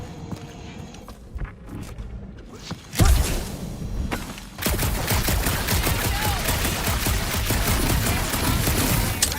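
Gunfire in Marvel's Guardians of the Galaxy video game, a sharp blast followed by sustained heavy rapid shooting that runs loud and continuous through the second half.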